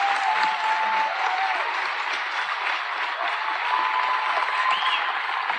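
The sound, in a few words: crowd cheering and applauding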